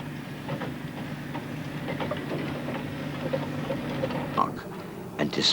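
Steam locomotive on the narrow-gauge Talyllyn Railway, built in 1926, running with a steady rumbling chug and clatter of wheels, a few sharper clanks and a squeal near the end, moderately loud and unbroken.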